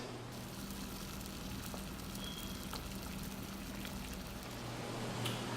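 Water boils at a steady bubbling hiss with tomatoes in it, faint crackles and pops throughout, no voices.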